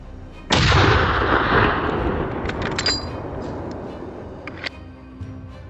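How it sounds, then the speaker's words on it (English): One loud, sharp gunshot cracks close by during a wild boar hunt, then booms and rolls away into a long fading echo. No voices. "The gunshot seemed to alarm the boars."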